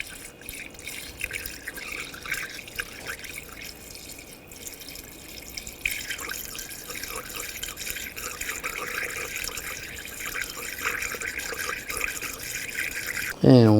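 Fifty-fifty coolant mix poured through a funnel into the radiator filler of a 2014-2020 Nissan Rogue, a steady close trickle and gurgle of liquid that grows fuller as it fills, ending with a sudden louder clunk.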